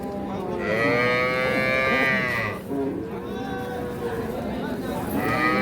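Holstein Friesian cows moo repeatedly, long loud lowing calls close by, over the murmur of a crowded livestock market in Narsingdi, Bangladesh, with people talking.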